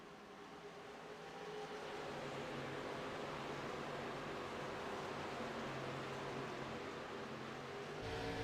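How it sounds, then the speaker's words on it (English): Race cars lapping Phoenix Raceway, a continuous broad engine roar that swells early and holds steady, with gear shifts blurred into the distant drone and no voices. "You hear some cars shifting out there."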